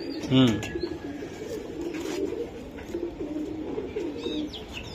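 A racing pigeon coos nearby, a short low throaty call near the start, followed by a quieter steady background with someone talking throughout.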